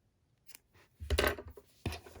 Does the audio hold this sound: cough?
no